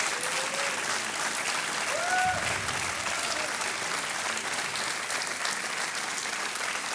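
Steady studio audience applause on a televised quiz show, continuous and fairly loud, with a few faint whistles or cheers mixed into the clapping.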